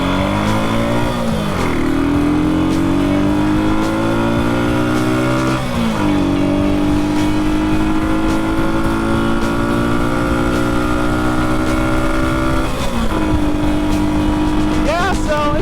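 A Moto Guzzi Stornello 125 motorcycle with a single-cylinder engine runs steadily and loudly throughout, its pitch dipping and climbing around gear changes and throttle shifts as the bike rides along, with a speaker talking over it.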